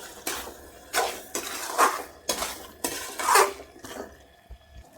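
A metal spoon scrapes and clanks in a pan while chicken gravy is stirred with salt and curry leaves, a series of separate, fairly close strokes with brief pauses between them.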